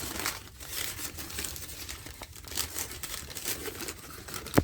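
Parchment paper wrapping crinkling and rustling continuously, close up, with a sharper crackle near the end.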